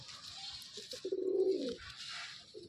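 Andhra pigeons at a breeding loft give one low, throaty coo lasting under a second, moderately close, over a steady airy hiss with faint softer murmurs around it.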